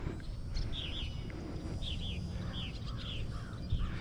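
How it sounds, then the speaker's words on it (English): Birds chirp at sunrise outdoors in a park, several short, paired upward tweets repeating across the few seconds over a low, rumbling background of wind and ambient noise. "Birds are happy."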